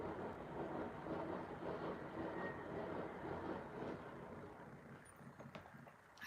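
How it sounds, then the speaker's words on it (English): Train rumbling past with steady rail noise and faint clickety-clack, fairly distant and continuous, fading slightly toward the end, with no voices. "I so love the trains."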